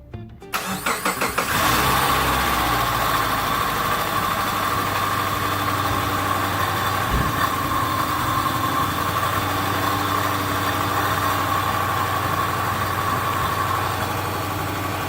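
A Subaru Forester with its air filter removed cranks briefly, fires up and settles into a loud, steady idle with a raw intake roar, the engine running close and continuous for the whole stretch without any voices.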